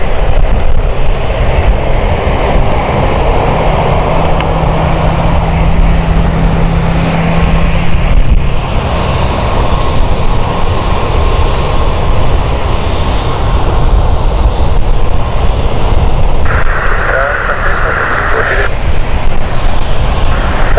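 A LOT Polish Airlines airliner arriving at London City Airport: a steady, loud jet engine roar holds throughout, with a whining tone breaking through partway.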